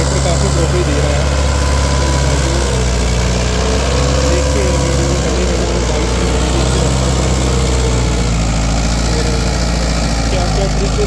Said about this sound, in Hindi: अभी तक भी ट्रैक्टर काफ़ी आरपीएम ड्रॉप दे रहा है